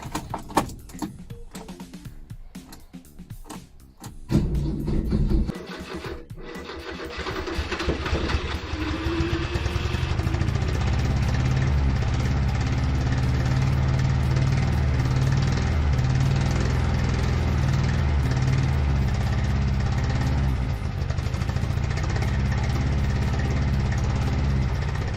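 Renault 4L engine cranks after some clattering handling noises, catches, and settles into a loud, steady idle on the choke that continues alone for the rest of the clip.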